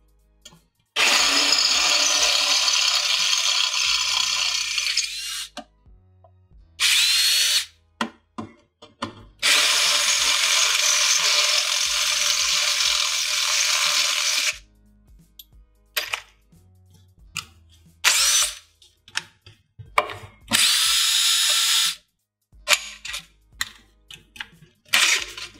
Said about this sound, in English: have got to be drilled out with a 5/16 drill bit